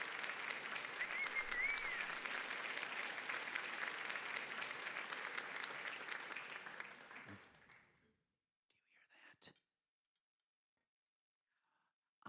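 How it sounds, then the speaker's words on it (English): A room of partygoers gives a round of applause that holds steady for several seconds, then fades out, leaving near silence with a few scattered claps. "I think we owe her a round of applause for all of her hard work"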